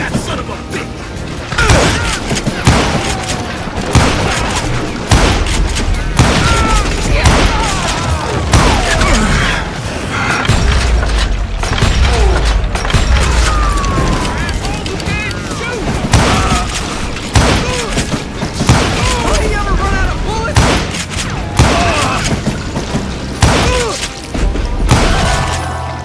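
Gunfire in the Call of Juarez Gunslinger video game: loud, dense shots, booms and crashes pile up in a chaotic firefight, while a voice speaks intermittently over the din.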